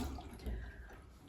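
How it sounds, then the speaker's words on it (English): Household tap water running in a steady, unbroken stream close by, with no one speaking. "Don't run the water while you're brushing your teeth."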